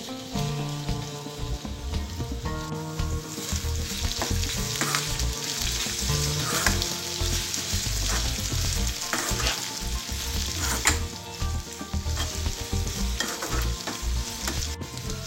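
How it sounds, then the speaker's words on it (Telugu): Ivy gourd pieces cook in a covered pan over a low flame, giving a continuous, fairly loud sizzle and crackle that stays steady throughout, with no voices. "దొండకాయ ముక్కలు మూత పెట్టి 5 నిమిషాలు సిమ్లో మగ్గనివ్వాలి"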